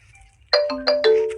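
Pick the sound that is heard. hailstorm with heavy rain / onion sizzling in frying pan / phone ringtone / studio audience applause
phone ringtone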